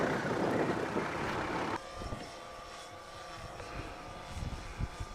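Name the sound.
drone flying overhead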